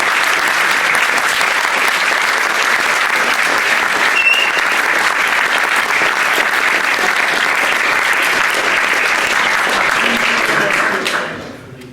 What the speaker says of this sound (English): So please give a big round of applause to all of our fantastic.